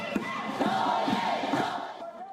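A crowd at a nightly candlelit protest against Myanmar's military junta sings together, many voices blending into a soft, distant, sustained chant with rhythmic swells.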